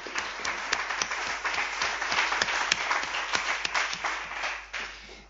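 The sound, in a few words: audience applause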